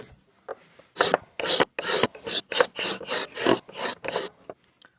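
A Stanley No 12 scraper rasps across a piece of wood in about ten regular, close scraping strokes, each a short gritty rasp with brief pauses between.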